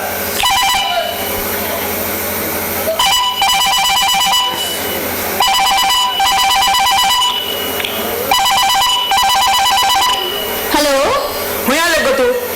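A telephone rings in loud repeated bursts, several rings spaced a second or two apart over steady background noise, with a voice briefly heard at the end.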